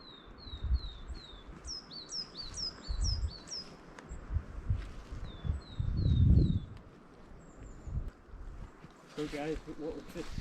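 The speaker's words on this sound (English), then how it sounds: "what we've just seen is a willow tit, and it's interesting because that's a bird that's really common across Northern Europe but rare in the UK" Willow tit calls in Stenhouse Wood: repeated short, high, thin notes in several bursts, fairly faint amid soft woodland ambience, with people talking quietly and rustling nearby.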